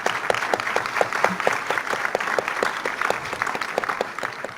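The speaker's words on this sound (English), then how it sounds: "Big round of applause." An audience at a medical school white coat ceremony applauds foundation members with steady, even clapping that holds its level throughout, and no voices are heard over it.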